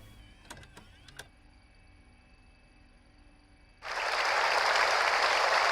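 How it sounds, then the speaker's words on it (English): Canned applause from a training video inside a video game swells abruptly after a few faint clicks, then continues as a loud, dense wash of clapping. "Some canned applause."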